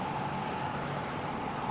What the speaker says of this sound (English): The car noise is annoying